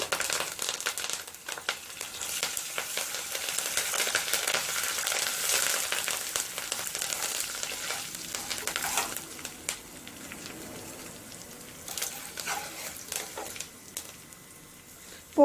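A tempering of asafoetida and fresh curry leaves fries in hot oil, giving a steady close crackling sizzle that slowly thins and fades over time, with no voices.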